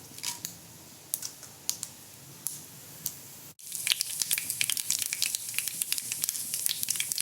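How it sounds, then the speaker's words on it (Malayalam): Mustard seeds sputter and pop in hot coconut oil in a pan, starting as scattered sharp crackles and then building into dense, rapid spluttering that sits close and clear, with no talking. "ഇനി നമുക്ക് കടുക് ചേർത്ത് കൊടുക്കാം."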